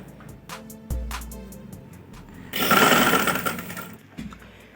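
Sewing machine stitching fabric for a frock, a rapid mechanical whir that builds into a loud, sustained burst of stitching before stopping, with quieter handling clicks around it.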